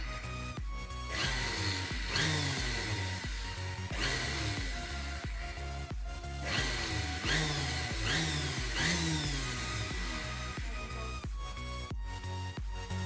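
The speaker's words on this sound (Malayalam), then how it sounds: "നമുക്കത് അടച്ചു വെച്ച് ഒന്നും കൂടി മിക്സ് ചെയ്തെടുക്കാം." A mixer blends homemade mayonnaise in bursts, a loud whirring motor that surges and cuts out repeatedly over several pulses.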